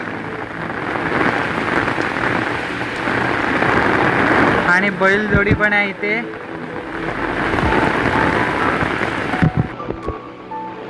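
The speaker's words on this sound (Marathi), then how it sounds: "पाऊस इतका उडतोय आवाज तुम्हाला येतच असेल" Heavy rain driven by wind pours over open rice fields in a steady, close, loud roar that lasts the whole time, while someone speaks partway through.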